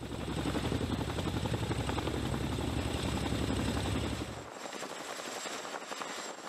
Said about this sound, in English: helicopters can use a process called sling loading to move equipment and supplies from one area to another in mere minutes